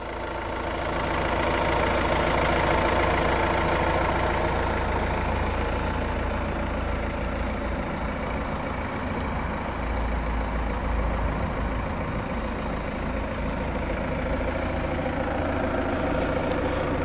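A 2017 Volvo V90 2.0 D5 diesel engine runs at a steady idle after start-up, a loud, even low hum and rumble that continues without talking.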